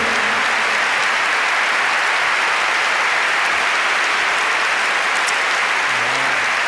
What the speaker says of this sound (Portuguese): o professor Joel Pina, para quem eu peço uma grande salva de palmas